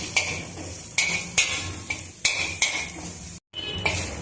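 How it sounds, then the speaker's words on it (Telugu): Grated fresh coconut dry roasted in a pan: a utensil scrapes and stirs in a steady, close rhythm of about two strokes per second, with faint sizzling between strokes and no talking. "కొద్దిసేపు వేయించుకున్నాం. కొంచెం కలర్ వచ్చేంత వరకు వేయించుకున్నాము."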